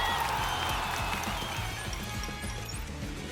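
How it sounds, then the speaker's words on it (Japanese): Dense applause from a crowd in the Uma Musume game, a steady wash of clapping that eases slightly in loudness, with no clear talk over it. "不屈のチャレンジャーひしミラクルにもう一度盛大な拍手を。"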